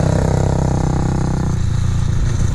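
A Honda TRX 400ex ATV engine running after a top-end rebuild, a loud steady buzzing drone that drops slightly in pitch midway, heard up close with no talking.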